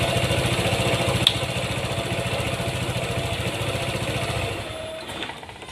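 Honda Vario 150 scooter engine idling at low RPM, a close, even, rapidly pulsing putter that drops and fades out near the end.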